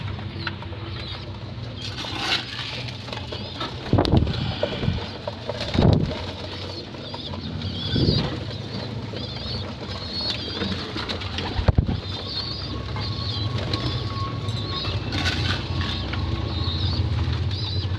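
Pigeons in a loft after feeding, soft low cooing throughout with several bursts of wing flapping and light pattering movement, close by and fairly loud, with no talking.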